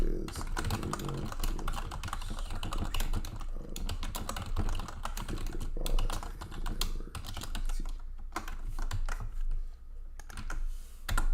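Fast, continuous clicking of a computer keyboard, dense and close, with brief pauses near the end, with speech faintly present at times.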